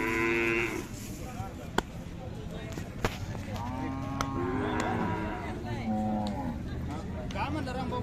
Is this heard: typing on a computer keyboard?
no